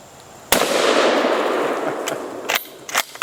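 A .308 bolt-action rifle fires outdoors: one loud, sharp crack with a long rumbling tail that fades over about two seconds. A few shorter, sharper pops follow near the end.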